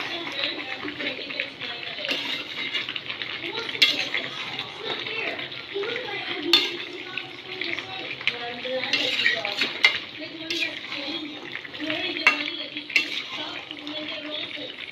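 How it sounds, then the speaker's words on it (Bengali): Mutton masala curry sautés in a pan on the stove, a steady soft sizzle broken by repeated scraping and clinks of a spoon stirring against the metal, close up; a voice talks briefly over it. "ভালো করে কষাতে হবে।"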